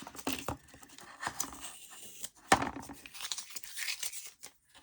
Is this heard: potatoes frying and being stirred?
no